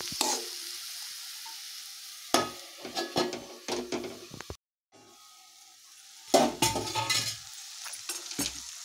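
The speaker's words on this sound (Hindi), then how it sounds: "अब इसमें हम टमाटर डालेंगे, टमाटर डाल के इसको चला के" Tomatoes cooking in a pan for paneer lababdar, stirred in bursts of clattering scrapes over a soft sizzle, close by, with a brief silent gap midway before the stirring resumes.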